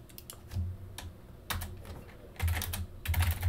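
Computer keyboard typing while entering a network switch configuration, bursts of quick close keystrokes with short pauses between them, alone without talk.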